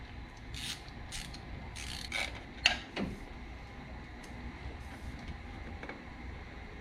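A fastener on a cold air intake being fitted to an LS-swapped Chevelle is loosened, producing quiet ratcheting clicks and a few metallic taps over a low, steady background hum.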